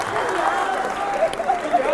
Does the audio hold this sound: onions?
no